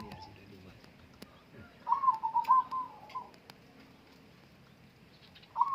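A perkutut (zebra dove) sunning outdoors in the morning gives a quick run of soft, rhythmic cooing notes at mid distance, then a brief start of another phrase, against faint background sounds.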